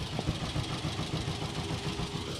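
An old John Deere G tractor runs in a Power of the Past parade, its engine giving a steady, low, rhythmic chugging throb that holds close and continuous.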